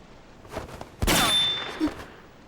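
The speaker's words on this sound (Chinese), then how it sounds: "嘿，开枪之前也不通知一声，这么小的空间，弹头乱飞" A single gunshot fired inside a small enclosed room: one sudden, loud, sharp blast with a short ringing decay, followed by quieter rustling.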